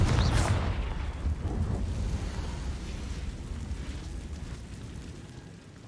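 Confringo fire spell blast in Hogwarts Legacy, a single loud burst up front followed by a deep rumbling roar that slowly fades over several seconds, with no voices.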